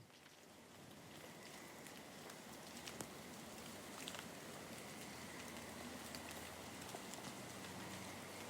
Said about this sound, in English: That is the sound of caterpillar poop falling through the trees, along with some debris and probably some munching.